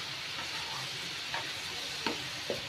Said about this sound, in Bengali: ধনের গুঁড়া 1 চামচ, হলুদ গুঁড়ো 1 চামচ দিয়ে মশলাটাকে নেড়ে ভালো করে কষিয়ে নিব।